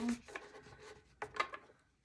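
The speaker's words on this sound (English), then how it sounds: "I'm going to grab from our Gaia deck. This needs a little bit of a shuffle as well." Gaia tarot card deck being shuffled by hand, giving soft, close rubbing and riffling of cards in a few brief bursts, quiet and without talk.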